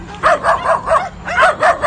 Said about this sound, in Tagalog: Ang dami yung aso.